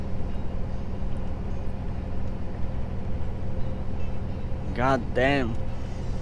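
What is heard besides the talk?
Scania truck engine pulling uphill after dropping a gear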